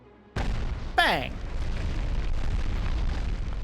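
A loud explosion blows up a boat in the Medal of Honor video game. A sudden deep boom is followed by a sharp, descending burst, then a sustained rumble that carries on to the end.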